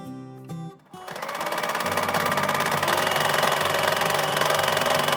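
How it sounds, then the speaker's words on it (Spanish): Sewing machine stitching both edges of a folded fabric piece for a small pouch, starting after a few brief clicks and settling into a loud, steady, rapid mechanical whir that runs continuously to the end. "Doblamos la pieza a la mitad y cosemos por ambos lados."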